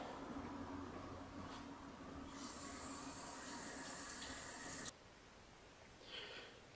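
Water rinsing inside a Samsung front loading washer during cleaning, a faint hissing rush of running water that intensifies briefly and then cuts off abruptly.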